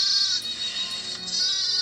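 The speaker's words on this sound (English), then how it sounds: "My little goat, you hurry back to your mother." A young goat gives a high, quavering bleat that holds steady and close, then rises again in a second, briefer cry, with no talking.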